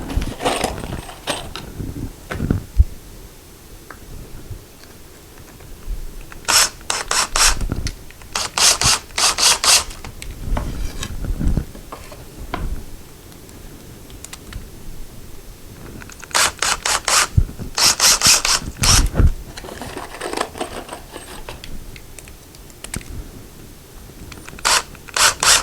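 Screws are driven loosely into a closet rod bracket with a hand screwdriver, heard as irregular bursts of scraping and gritty rubbing clicks repeating through the stretch, close up with quiet gaps between them.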